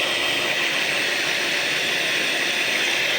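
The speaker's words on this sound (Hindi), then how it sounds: "अब तीनों अंडों को हमने अच्छे तरीके से जो है बीट करते जाना है।" An electric beater whirs steadily through eggs and sugar for cake batter, a continuous high whine, loud and close, with no voices.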